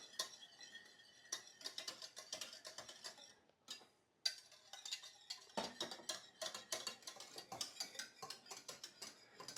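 A spoon stirs a low carb keto béchamel sauce in a pan, giving repeated scraping clinks and clicks in an uneven rhythm, close and quiet, with a brief pause midway.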